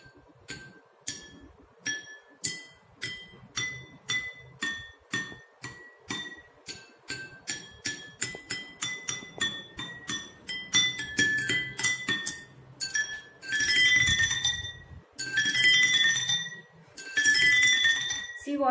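Glasses holding different amounts of water are struck one after another, giving a long series of bright, ringing clinks that start sparse and evenly spaced, then come faster and overlap into sustained ringing tones, heard close with no talk.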